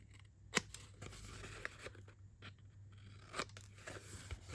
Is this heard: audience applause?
no